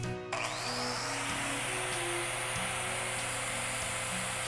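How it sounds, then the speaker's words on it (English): Power grinder trimming excess material from a 3D ear liner for a black bear mount, a continuous loud whirring drone with slight load changes throughout, no talk. "Take a grinder and I'm just going to take and remove that excess material"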